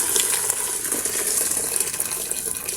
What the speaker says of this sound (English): Add in some boiled water.